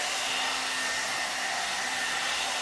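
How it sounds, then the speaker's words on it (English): A hair dryer blow-dries hair through a SUTRA blowout brush, giving a loud, steady, close airy whoosh that holds unbroken throughout with no voices. "but it's blow drying."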